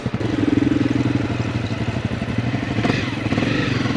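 A motorcycle rolls slowly down a steep hill in neutral with the clutch pulled in and the back brake on. Close, steady mechanical chatter and a low idle rumble hold throughout, with rattling clatter and a brief rise near the end.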